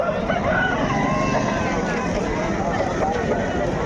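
Roosters crowing amid a busy Pileru chicken market, their calls rising over a dense, steady din of crowd chatter and other fowl clucking nearby.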